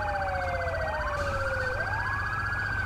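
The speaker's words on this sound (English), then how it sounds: "Ambulance is taking off." Ambulance siren departing in the video game GTA V with the LSPDFR mod, rising and falling electronic wails sweeping continuously at moderate volume, with no talking.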